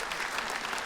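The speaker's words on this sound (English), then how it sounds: "Clap your hands if you struggled." A comedy audience claps their hands together, a dense, even burst of applause heard up close without pause.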